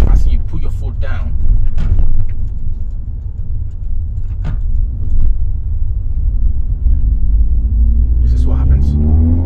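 An eighth-generation Honda Civic Type S (FN1) with the i-Shift gearbox is driven hard, giving a steady low engine and road rumble inside the cabin, rising in pitch toward the end, with someone talking over it.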